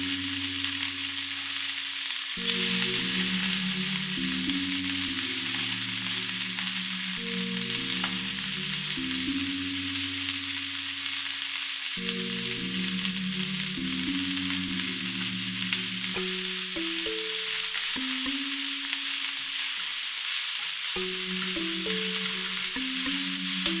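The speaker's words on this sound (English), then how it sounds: "We're going to saute just for a few minutes." Fresh garden vegetable greens sauté in a pan, a continuous close sizzle running under a steady background of tonal music, no speech.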